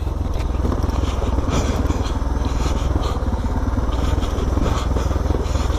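A Suzuki DR motorcycle rides a dirt track, its engine a steady, loud, close drone with no break, the throttle held fairly even throughout.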